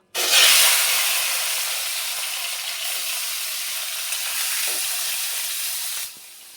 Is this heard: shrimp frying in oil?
yes